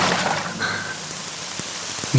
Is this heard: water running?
no